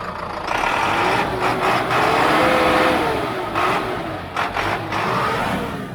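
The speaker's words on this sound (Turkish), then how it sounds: "Traktörün bayağı da güzel bir kulağa hoş bir sesi var yani." A loud Zetor tractor engine held at full throttle at an agricultural fair in Konya, a steady roar with a wavering drone, close by and without any talking.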